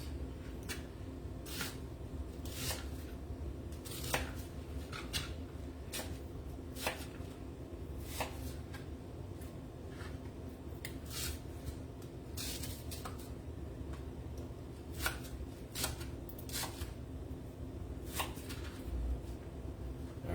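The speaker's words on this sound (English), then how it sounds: "let me just cut these bigger pieces." Knife chopping food into smaller pieces on a cutting board while cooking crab stuffed salmon with greens and onion, giving a steady series of sharp, close taps over a quiet kitchen background.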